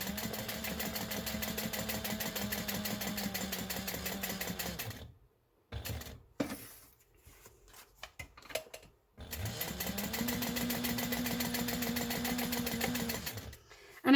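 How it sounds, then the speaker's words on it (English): A sewing machine stitches around the panels of a bowler bag in rapid, steady runs, pausing in the middle with a few short bursts before a second long continuous run. "we're just going to sew all the way around"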